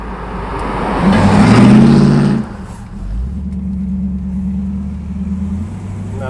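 A 1968 Pontiac Firebird muscle car revs loudly up close, its deep exhaust swelling and then dropping away, before settling into a low, steady rumbling idle.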